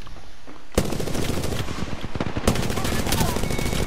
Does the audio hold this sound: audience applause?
no